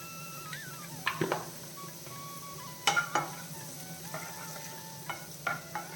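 Vegetables with turmeric powder are stirred in a pan over a quiet sizzle. A few clusters of metallic scraping and clinking stand out, spaced irregularly, with no speech.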